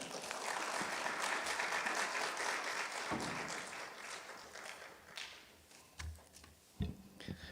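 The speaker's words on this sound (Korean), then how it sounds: "큰 환영의 박수로 우리 목사님을 맞이하도록 하겠습니다" A large church congregation claps steadily to welcome a pastor, a dense wash of applause that thins out toward the end into scattered claps and a few taps.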